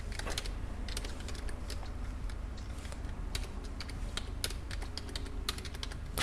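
Fingers type on a computer keyboard with a Spanish layout, producing a quick, irregular stream of light key clicks at close range, fairly quiet and with no talking.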